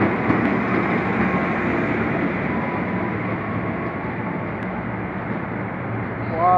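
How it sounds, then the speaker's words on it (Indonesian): A KRL commuter train from Bogor rolls through Depok Baru station, a steady, fairly loud broadband rumble that holds throughout, with a brief squeal near the end. "Ya ini ada KRL ya, yang dari Bogor."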